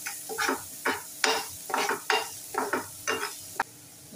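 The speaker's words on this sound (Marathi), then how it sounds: "तर आपण घालूया बारीक चिरलेला कांदा. छान परतून घेऊया." Finely chopped onion sautéing in hot oil in a pan, stirred in about eight rhythmic scrapes with a soft sizzle underneath, close and without talk.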